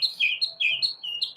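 A pet bird chirps loudly indoors in a rapid series of high, bright tweets, close and insistent with no talk over it.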